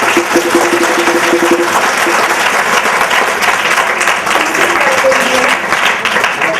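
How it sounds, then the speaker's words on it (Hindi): A church congregation at a prayer and healing service applauds together in steady, loud, dense clapping that runs unbroken from start to finish. "सब ताली बजा के परमेश्वर का धन्यवाद"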